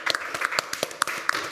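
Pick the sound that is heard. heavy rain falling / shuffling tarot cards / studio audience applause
studio audience applause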